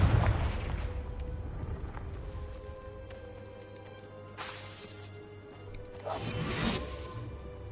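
Confringo spell explosion in the video game Hogwarts Legacy: sharp bursts with whooshing blasts, one at the start and two more booming hits later, over a low rumbling game backdrop.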